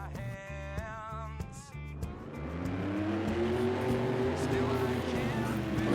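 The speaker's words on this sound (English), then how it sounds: "Coming out third for two-wheel skills, we have Tristan England in JCB Digatron" A monster truck's engine revs and roars at a Monster Jam stadium show as the JCB Digatron comes out for two-wheel skills, a loud, rising sustained drone that builds in intensity, with an announcer's voice in the opening seconds.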